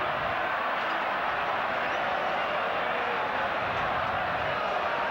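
A large stadium crowd at a 1983 State of Origin rugby league match between New South Wales and Queensland roars steadily in reaction to a New South Wales penalty, a broad, continuous wash of distant voices.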